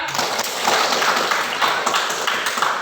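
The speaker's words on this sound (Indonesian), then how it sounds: "aplaus buat temannya ya" A classroom claps for a classmate after a presentation: a dense, steady patter of many hands from close by that holds evenly for a few seconds.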